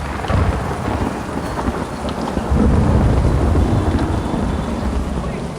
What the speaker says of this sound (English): the subsequent thunder rippled across the silver towers